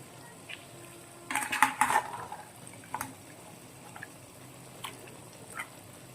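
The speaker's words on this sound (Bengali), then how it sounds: "মশলা কষে উঠেছে মেরিনেট করা মাংসগুলো আস্তে আস্তে দিয়ে দেবো" Marinated mutton is tipped into a pot of fried-down spices, giving a burst of clattering, sizzling scrapes around a metal pot, then a few scattered light clinks and stirs, close and moderate.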